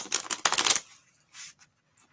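Playing cards are riffle-shuffled in a quick, crisp burst of rapid fluttering clicks lasting under a second, followed by a few faint soft taps in near silence.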